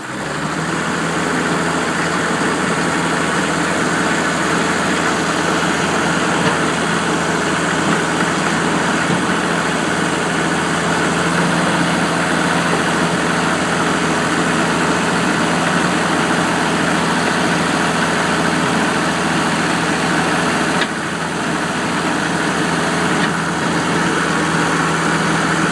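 A Kubota M4050 two-wheel-drive full-size tractor engine runs steadily while driving, a loud, constant diesel drone with a low rumble that continues unbroken for about twenty-five seconds.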